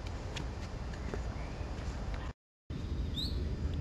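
Birdsong drifts through a steady outdoor background, with a few faint chirps and one brighter high call near the end, broken by a brief moment of silence partway through.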